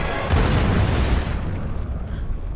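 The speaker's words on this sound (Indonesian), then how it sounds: "Setelah Pilot meledak" A loud, deep explosion erupts as the character Pilot blows himself up, a heavy booming blast that rolls on briefly and then decays into fading rumble.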